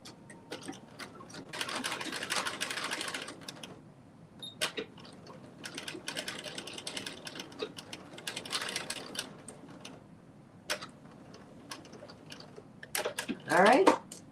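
A home sewing machine stitches a row on a McCall's 8142 garment in a few short whirring runs, separated by clicks and handling sounds, moderately close.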